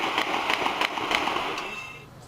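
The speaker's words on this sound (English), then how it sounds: "A hail of bullets, a shattering bang." Gunfire and loud bangs during a police chase after the Boston bombing, recorded on an amateur camera: a rapid series of sharp cracks about every third of a second, fairly loud and echoing, trailing off at the end.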